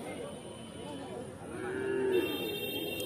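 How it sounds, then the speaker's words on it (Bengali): Calves lowing at a busy village cattle market, one drawn-out moo rising clearly over crowd murmur and background chatter midway through, with steady market noise throughout. "তো এখানে 3টে বাছুর আছে বন্ধুরা"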